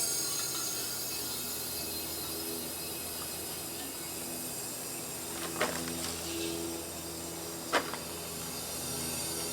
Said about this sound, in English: Open this valve up, and what you're going to do is you're going to hear the propane rushing in here.